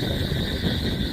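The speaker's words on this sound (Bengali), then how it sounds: "আপনারা শুনতে পাচ্ছেন কীরকম হাওয়া হচ্ছে" At night, strong wind in a bamboo grove roars as a dense, steady rush with buffeting and a constant hiss, loud and close with no pauses.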